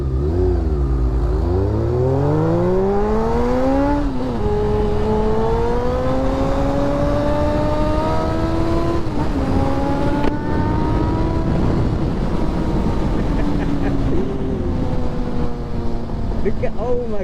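A Toyota GR Yaris driving hard through mountain-pass corners, its engine revving up and down in repeated rising sweeps with gear changes, loud and close throughout.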